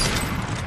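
A brief, loud burst of Fortnite gunfire, dense and booming, filling a fraction of a second without pause.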